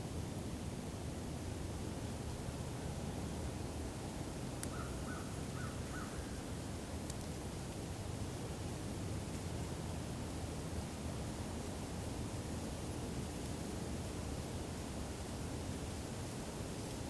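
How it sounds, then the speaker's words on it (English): Steady wind rushes outdoors as a constant faint roar for the full length, with a brief high sound near the start and no voices. "That's the wind."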